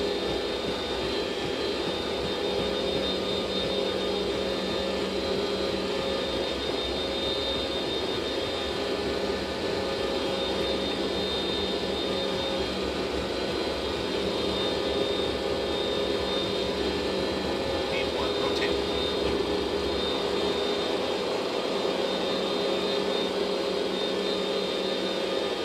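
Jet engines spool at takeoff thrust in Microsoft Flight Simulator 2024, a steady loud roar with broad hiss and whine held unchanged throughout, with no talking over it.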